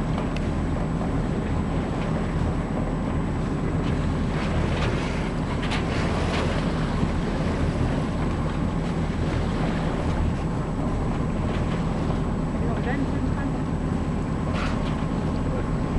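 A motorboat engine drones across the Adriatic Sea, a steady broad hum mixed with wind buffeting the microphone and wash from the waves.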